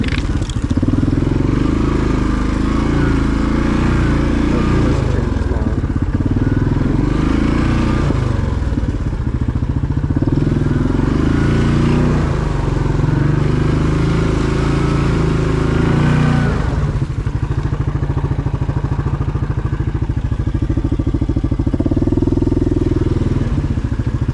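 A 2020 Yamaha Grizzly 700 ATV rides along a rutted trail, its engine droning close and loud with repeated throttle surges and rattling over bumps.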